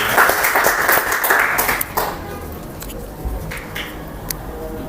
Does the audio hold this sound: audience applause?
yes